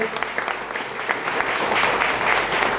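An audience breaks into steady, dense applause, many hands clapping together at an even level and swelling slightly toward the end.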